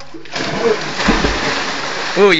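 A person dives into water, giving a broad splashy burst under steady background noise, with voices shouting and talking over it.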